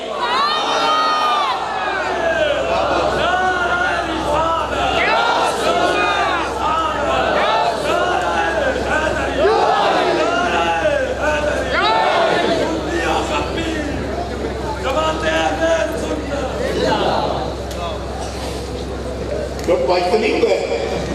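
A large crowd at a religious jalsa gathering shouting and chanting slogans in loud, overlapping waves of voices, with cheers and whoops rising and falling throughout, close and continuous over a steady low hum.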